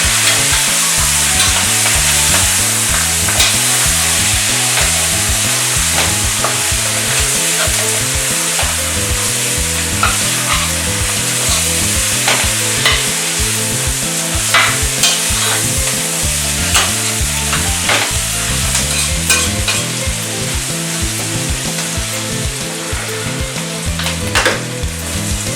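Eggplant and smoked pork with cumin sizzle steadily in a pan while a utensil stirs them in a continuous rhythmic scraping pattern, loud and close throughout, with no talking.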